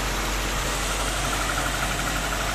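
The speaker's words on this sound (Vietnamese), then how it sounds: "máy chạy rất là êm luôn, máy chạy tròn đều căng." An imported Japanese Nissan Bluebird SSS engine idles smoothly and evenly, a close, steady low hum with a faint regular ticking pulse throughout and no talking.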